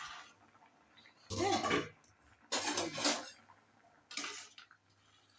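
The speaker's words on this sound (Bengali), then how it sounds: "ঢাকনাটা খুলছি" A metal lid is lifted off a cooking pot of simmering food in a home kitchen, giving a few short clattering bursts spread over several seconds, with a brief spoken word among them.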